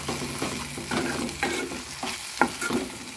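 A spoon stirs a thick prawn curry masala in hot oil in a pan, with repeated scraping strokes over a steady low sizzle and one sharper clink near the end.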